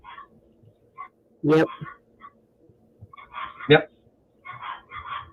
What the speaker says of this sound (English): Got the ankle biters. They're out there barking.